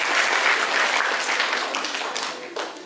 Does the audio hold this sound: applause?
yes